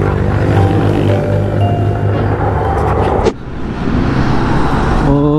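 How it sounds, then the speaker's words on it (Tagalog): Cars speed past on a roadway during a town fiesta in Bayombong, Nueva Vizcaya, making a loud, continuous engine and tire roar with a brief dip partway through before the traffic noise builds again. "ang bibilis ng sasakyan dito"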